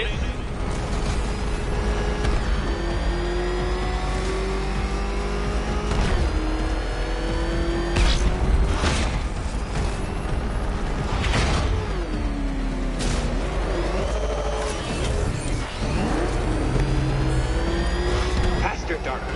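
A car engine in the Batman Arkham Knight video game revs hard and continuously, with rising and falling pitch sweeps and a few sharp bursts over a dense, loud game mix.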